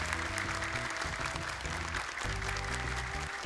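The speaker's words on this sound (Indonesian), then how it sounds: "Boleh tepuk tangan untuk Pak Tantan" A hall audience at an Indonesian Quran memorization competition event applauds steadily for a guest, dense continuous clapping mixed over a loud musical bed with sustained tones.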